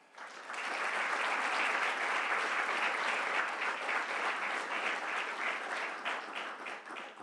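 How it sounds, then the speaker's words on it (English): Graduation-ceremony audience applauding the valedictorians: a sustained, dense wash of clapping that swells quickly after a quiet start and stays full and steady before easing slightly near the end. "Can you please have a round of applause for our fellow valedictorians?"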